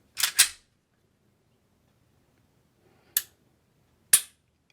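An FN 545 Tactical .45 ACP pistol gives crisp trigger clicks: a quick double click at the start, then two more single sharp clicks after a pause, close up against near silence.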